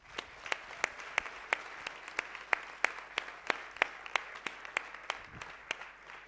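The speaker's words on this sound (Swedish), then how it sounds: "Värt en applåd, eller hur?" Scattered applause comes from a modest audience at a Swedish hackathon closing ceremony. It is a thin, fairly quiet run of distinct individual claps at a steady, loose rhythm, with no voices over it.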